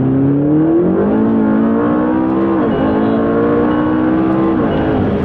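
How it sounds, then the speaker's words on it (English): McLaren 650S sports car accelerating from a rolling 2,000 RPM at about 60 km/h, its engine note climbing steadily in pitch with a brief dip at a gear change, loud and continuous from inside the cabin. "I just want to show you the rolling acceleration of this car."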